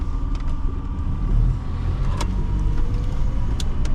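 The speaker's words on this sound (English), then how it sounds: "I love the sound of this Volvo." A Volvo car engine hums low and steady while driving, close and continuous, with road rumble underneath and a few faint clicks.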